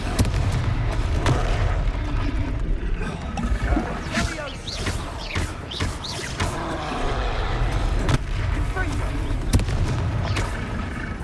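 A Confringo fire spell in Hogwarts Legacy erupts in loud booming blasts and crackles amid continuous combat noise, with a person talking throughout.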